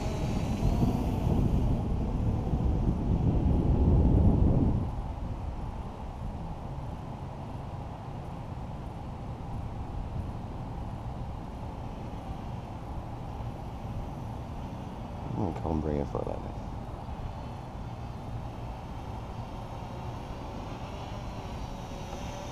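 A multirotor drone fitted with a Naza flight controller takes off outdoors, its motors a steady whirring hum under wind noise that is loudest during the first few seconds.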